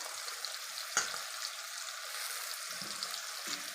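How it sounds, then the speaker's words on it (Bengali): Capsicum chillies frying in oil in a pan with onions, a soft steady sizzle with a couple of faint utensil knocks, quiet and close, without speech. "এবার আমি ক্যাপসিকাম লঙ্কাটা দিয়ে দেবো তেলের উপরে"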